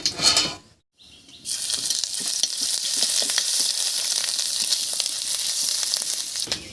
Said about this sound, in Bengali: এবার এর মধ্যে দেব হাফ চামচ মতো গ্রেট করা আদা